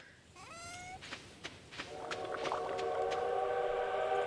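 A train in a farming video game sounds a rising whistle, then clattering knocks build into a steady droning rumble with tonal hum as it rolls past, moderately quiet.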